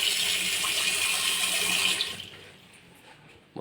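Water gushes loudly from a tap for about two seconds, then shuts off, leaving quiet drips and a faint room sound.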